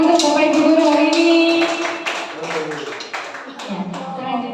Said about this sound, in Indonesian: Tepuk tangan untuk Bapak Ibu guru hari ini